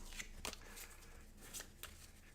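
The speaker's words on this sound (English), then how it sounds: "Need a little bit more shuffling, obviously." A deck of cards for a World War II tank battle board game gets shuffled in a few quick, soft riffling bursts close by, quiet and without speech.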